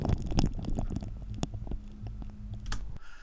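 A wet, squelchy gelatin sound effect recorded for horror game sound design, with irregular soft squishes, clicks and gurgles, close and fairly quiet, stopping abruptly near the end.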